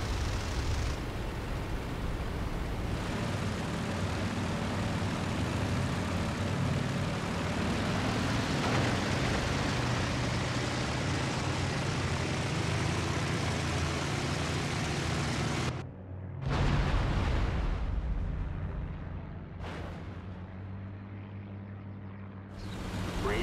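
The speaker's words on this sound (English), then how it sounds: "There's still some enemy aircraft up there, it sounds" In IL-2 Great Battles, the engine drone of WWII aircraft, heard from a P-51B-5 Mustang cockpit, holds a steady, loud roar, cuts out abruptly for a moment, then returns before fading to a lower hum.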